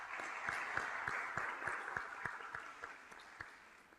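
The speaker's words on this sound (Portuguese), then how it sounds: "começo agradecendo o gentilíssimo aplauso" Audience applause at a university event welcoming Professor Michel Temer, a steady patter of many hands with a few louder individual claps standing out, gradually fading toward the end.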